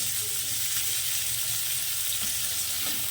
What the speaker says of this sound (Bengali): এখন আমি এর মধ্যে দিয়ে দিচ্ছি দুটো মিডিয়াম সাইজের টমেটো কেটে নিয়েছি ছোটো ছোটো করে